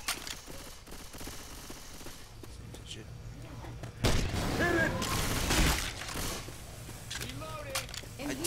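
Grenade launcher fire in the Left 4 Dead 2 video game: a loud burst of heavy blasts and rumble in the middle, set among ongoing gunfire and game noise while players talk throughout.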